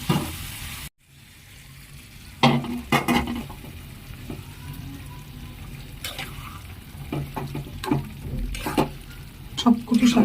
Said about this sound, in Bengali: এটা এখন ধীরে ধীরে নেড়ে চেড়ে আমি নামিয়ে ফেলবো শুকনো শুকনো করে।